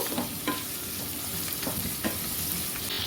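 Onion and garlic sauté lightly in a pan over medium heat, a soft, even sizzle with a few quiet stirring scrapes, fairly faint.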